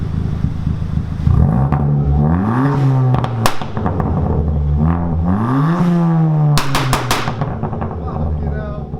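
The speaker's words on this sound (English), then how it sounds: "I'll give it some revs. We're going to see how it revs." A loud, raw straight-piped Ford Fiesta ST engine revs repeatedly, pitch climbing and falling in surges, with sharp bang-like pops crackling out between the revs.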